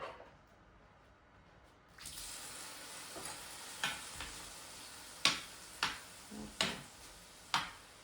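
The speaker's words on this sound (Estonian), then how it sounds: "krevette ma praen näiteks seesamiõliga" Shrimp hit hot sesame oil in a pan: after a quiet start, a broad hiss of frying rises and carries on, broken by several sharp crackles and pops, with no talking.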